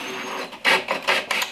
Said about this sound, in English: I'm gonna drive two screws.